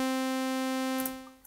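Synthesizer patch in Ableton Live holding one steady, buzzy sustained note rich in harmonics, alone and clear, fading slightly near the end.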